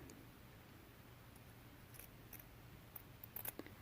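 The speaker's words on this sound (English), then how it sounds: "I'm going to go ahead and just trim away these corner bits." Scissors snip the corners off a fabric quilt label, a few faint, quick clipping cuts near the end against a quiet room hiss, with no talking.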